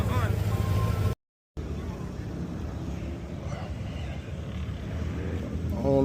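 Car engine at a car meet, likely a Chevrolet Camaro ZL1 or similar, rumbling steadily and fairly close with wind buffeting the microphone, broken by a brief dropout and swelling toward the end; someone talks over it early on.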